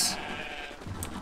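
A bighorn sheep in a video game bleats once, a short nasal call near the start, followed by a brief higher squeak, over a soft steady game background.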